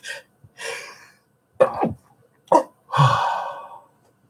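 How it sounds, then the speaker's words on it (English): A sneeze builds with a couple of sharp inhalations, then bursts out loud and close, followed by a short trailing exhale. "I'm going to sneeze"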